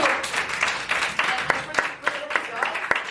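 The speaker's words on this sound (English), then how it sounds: "Can we also get a round of applause for just our producer, Neil?" An audience at a live dating show applauds in scattered, uneven claps, fairly close and moderately loud, while a voice talks over the clapping.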